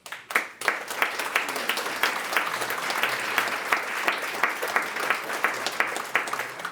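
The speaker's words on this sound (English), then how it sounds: "Yes, applaud them." A university audience applauds during a speech by an ambassador, a steady wash of clapping with individual sharp claps standing out, continuing throughout at moderate loudness.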